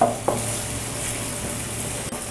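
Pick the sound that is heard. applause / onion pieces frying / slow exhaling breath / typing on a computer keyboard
onion pieces frying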